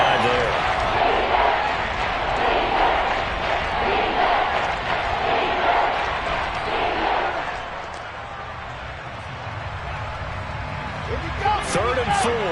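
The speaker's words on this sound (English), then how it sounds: "this crowd urging on their defense. They're up and making noise" A football stadium crowd roars and cheers loudly to urge on the home defense on third down, a dense wall of noise that dips slightly midway then swells again, under a commentator's play-by-play.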